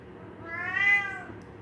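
A house cat gives a single drawn-out meow, rising and falling, close and clear over a low background hum.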